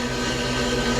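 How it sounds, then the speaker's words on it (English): A continuous loud, dense mechanical rattling roar from a pneumatic needle gun, steady throughout with no pauses. "This is the sound of the needle gun."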